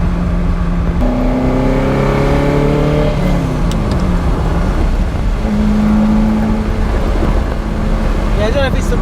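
A Ferrari replica's carbureted engine burbles steadily beneath road noise, its low throb rising and falling as revs shift, with people talking over it inside the car.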